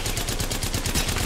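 Rapid automatic gunfire in the Apex Legends video game rattles off in a dense, continuous burst of loud, evenly spaced shots.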